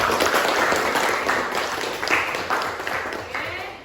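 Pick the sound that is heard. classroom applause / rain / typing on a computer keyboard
classroom applause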